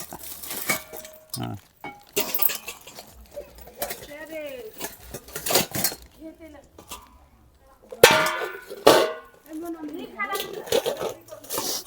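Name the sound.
metal utensils (pots) clanging as they are handled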